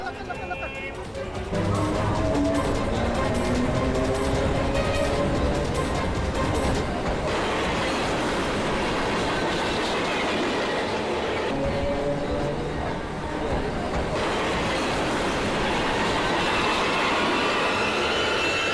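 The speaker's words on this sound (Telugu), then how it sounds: "సరేరా, ట్రైన్ బయలుదేరిపోతుంది, వెళ్దాం." A passenger train pulls out of a station and runs along the rails: a loud, continuous rumble with clattering wheels and metallic squeal, while crowd voices carry on nearby.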